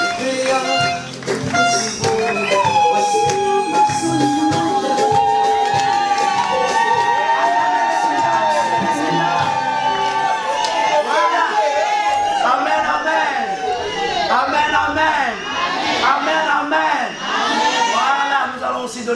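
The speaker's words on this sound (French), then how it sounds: "Est-ce qu'on peut accompagner par les acclamations?" Wedding guests in a church break into loud, sustained cheering and whooping, a dense crowd roar with shouts and high voices rising over it for the whole stretch.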